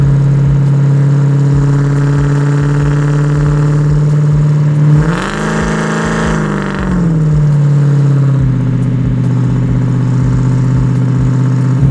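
The 750-horsepower LS9 V8 in a Chevy Chevelle drones steadily at cruise, then swells into a short, louder rev as it accelerates before settling back to an even hum, heard close inside the car.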